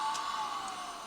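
A RED cinema camera powers up outdoors on a wildlife shoot, giving a steady whirring, whining tone with a bright high hiss, close and alone for about a second.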